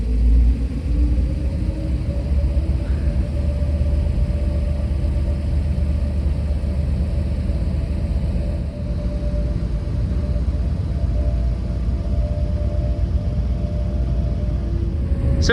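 Steady low engine rumble aboard a midnight car ferry to Jamestown as it departs, a continuous droning hum with no talking.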